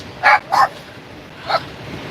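A dog growls and barks three times in short, sharp bursts, two close together and one after a pause, fairly near with a quiet background.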